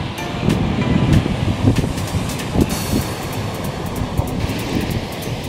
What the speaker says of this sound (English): It's a windy tonight,